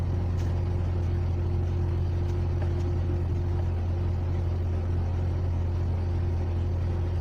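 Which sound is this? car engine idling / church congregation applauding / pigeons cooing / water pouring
car engine idling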